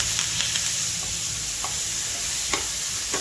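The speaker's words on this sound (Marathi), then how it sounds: "छानपैकी आपण फ्राय करून घ्यायचं आहे।" Onion, curry leaves and mustard seeds frying in a pan and being stirred, a steady close sizzle with scattered spoon scrapes and small pops throughout, no talking.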